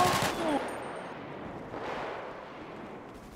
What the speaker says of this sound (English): Oh my god, I got shot in the head!